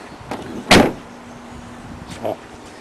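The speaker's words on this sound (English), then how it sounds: "And I'll close this door." A Mazda RX-7 door shuts with a solid thud, followed by a softer second clunk a moment later, with a faint steady hum and brief speech in the background.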